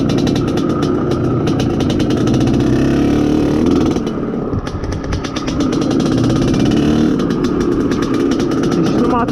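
An Izh Planeta Sport motorcycle engine being broken in runs loudly and steadily throughout, with a brief dip in the middle; a voice talks over it.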